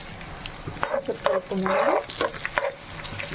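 Curry leaves and garlic pieces crackle and spit as they hit hot oil in a pan, with sharp bursts of sizzling and stirring scrapes, close by, while a voice speaks over it.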